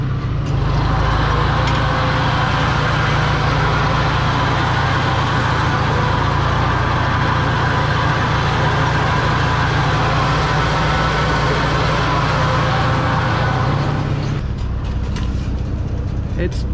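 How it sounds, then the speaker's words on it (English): A farm tractor running in first gear with the PTO engaged, its engine droning loud and steady with a low rumble close by, then dropping off abruptly near the end. "Engage PTO. First gear, which really isn't slow enough on this tractor."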